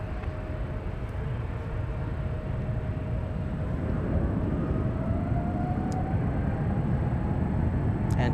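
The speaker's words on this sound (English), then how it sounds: "There goes the TAP. Flying above us. Heading over to the runway." A TAP airliner passes overhead on its approach toward the runway at San Francisco, a steady broad jet roar that holds throughout and swells slightly as it nears.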